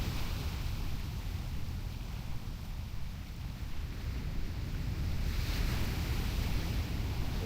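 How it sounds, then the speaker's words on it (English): Massive ocean waves wash steadily in the video game Turtle WoW, a World of Warcraft server, a continuous loud surf roar with gentle swells and no voices over it. "We're hearing like the massive ocean waves."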